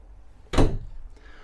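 A mirrored medicine cabinet door in the bathroom of a 2022 Reflection 150 Series 260RD RV opens with a single sharp wooden knock or clack, close, followed by a faint softer tap.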